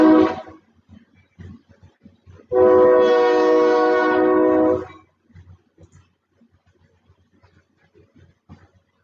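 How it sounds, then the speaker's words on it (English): A loud train rumbles past for a few seconds, a dense sustained roar that cuts off abruptly, with quiet clicks and faint background before and after. "A moment it will get a little loud because the train is passing by."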